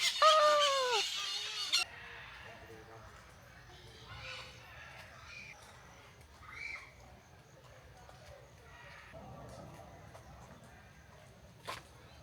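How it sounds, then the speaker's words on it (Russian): Loud, harsh screeching calls from parrots in a park at Foz do Iguaçu, Brazil, burst out at the start, followed by quieter scattered squawks and a voice speaking faintly in the background. "попугаи, добрый вечер, добрый вечер. Господи, надеюсь, вы слышите, как они орут"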